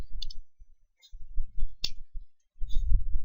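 Computer keyboard keys tapped while a PowerShell command is entered, quick soft clicks in short bursts with pauses, close and fairly quiet, no talking.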